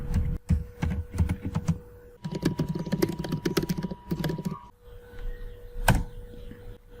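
Clicky computer keyboard typing comes in quick bursts of keystrokes close to the mic, ending with a sharper single tap of the enter key, over a faint steady hum.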